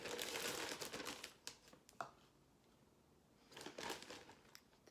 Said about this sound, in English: One cup of flour into the Ziploc bag.